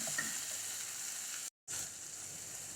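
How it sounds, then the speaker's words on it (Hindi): Tomato puree fries in oil over a medium flame, a steady close hissing sizzle with a brief dropout partway through. "टमाटर प्यूरी को मीडियम फ्लेम पर इसका तेल सेपरेट होने तक भून लेंगे"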